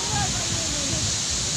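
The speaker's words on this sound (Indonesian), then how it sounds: "ini semakin di bawah dari air terjun PONOT" Ponot waterfall in Asahan, North Sumatra, roars as a steady, dense wash of rushing water close by, with faint voices mixed underneath.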